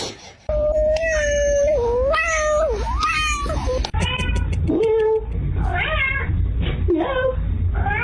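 A cat meows loudly and repeatedly at close range, a string of long, drawn-out, wailing meows close together, edging into caterwauling, with faint background noise.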